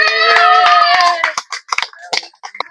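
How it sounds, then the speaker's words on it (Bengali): A group claps for Sohan, winner of 200 taka in a guess-the-number game, with a few close hand claps under a busy stretch of cheering voices that thins into scattered separate claps. "সোহানের জন্য হাততালি হোক।"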